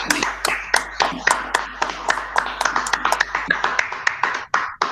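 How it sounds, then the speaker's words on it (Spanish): An audience at a talk gives a strong round of applause, steady dense hand clapping that tapers off near the end. "con un fuerte aplauso le damos la palabra a Amelia."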